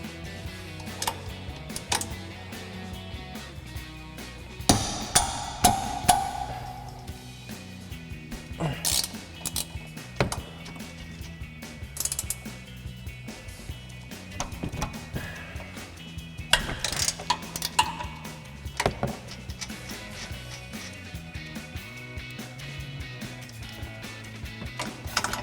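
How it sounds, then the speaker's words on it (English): A 15 mm ratcheting wrench works on strut mounting nuts of an F-150 suspension, giving quiet, irregular bursts of clicking ratchet pawls and metal clinks at close range against a low background hum. "So we'll grab our 15 millimeter ratcheting wrench."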